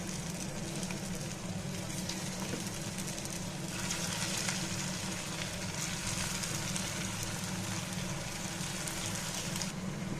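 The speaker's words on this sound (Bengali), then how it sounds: "দেখুন বন্ধুরা আমার নাস্তাটা ভাজা হয়ে গেছে।" Raw potato and flour snacks frying in oil over a stove flame, giving a dense, continuous sizzle and crackle at steady loudness with no talk.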